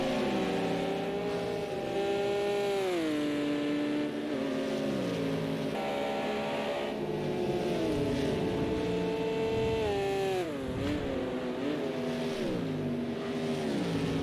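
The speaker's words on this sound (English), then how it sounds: "And now the GT1s burst onto the circuit." GT1 race cars thunder around the Hockenheim Classic circuit in Project Cars 2, several loud engines overlapping with rising and falling revs, gear shifts and continuous roaring without speech.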